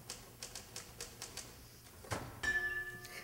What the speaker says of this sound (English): that's an awful loud bell on that typewriter